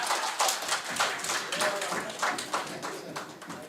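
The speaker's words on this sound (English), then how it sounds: "A clap again." Scattered audience clapping at a shipbuilding and maritime development seminar, a moderately loud patter of hand claps in irregular bursts, fairly close, with some murmuring underneath.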